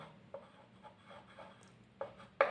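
A statement is handwritten during an electrical engineering lecture, heard as faint, intermittent scratchy pen strokes in short bursts with quiet pauses between them and no talking.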